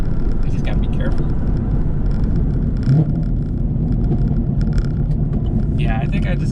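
Chevrolet Camaro LT1 with a popcorn burble tune on a drive, steady loud engine and exhaust rumble throughout with scattered crackles and pops, a voice talking over it.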